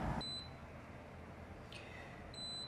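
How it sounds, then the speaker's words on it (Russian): A dishwasher on its first run gives short electronic beeps, two brief tones near the start and another pair at the end, faint over a steady low hum of running water. "Так, машина что-то начала пикать."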